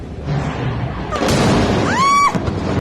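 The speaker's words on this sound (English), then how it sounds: "Explosions ripped through Caracas, bright flashes in the sky, deep rumbling blasts" Deep booming blasts of explosions over Caracas at night rumble over constant background noise, followed by a brief rising whistle-like tone.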